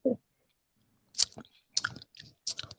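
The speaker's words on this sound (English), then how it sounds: "Let me get some smacking going on in the meantime." Mouth smacking and wet lip-and-tongue clicks from a person sipping a piña colada, a faint click at the start, then three close, sharp bursts of smacking with softer chewing-like noises between, recorded near the microphone with no speech.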